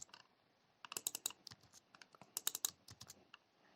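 Quick bursts of computer keyboard typing with sharp clicks in irregular clusters, close and fairly quiet, nobody speaking.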